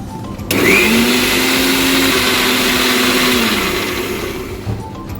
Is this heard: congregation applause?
no